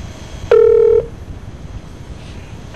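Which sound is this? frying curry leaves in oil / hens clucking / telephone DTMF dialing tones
telephone DTMF dialing tones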